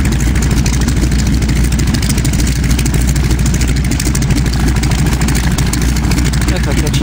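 An Air Tractor crop duster's engine runs loud and steady at a rural airstrip, a constant heavy droning roar with low throb, and people talk beneath it.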